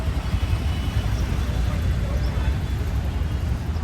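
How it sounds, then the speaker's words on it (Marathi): Steady low road traffic rumble from cars and buses near Jodhpur fort in Rajasthan, continuous and fairly loud throughout, with faint voices mixed in. "ट्रॅफिक"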